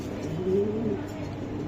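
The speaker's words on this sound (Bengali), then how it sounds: "এই যে আরেকটি কবুতর" A racer pigeon coos softly in a low, brief murmur against a steady indoor hum, close by and with no talking.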